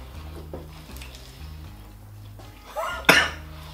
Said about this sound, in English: I always cough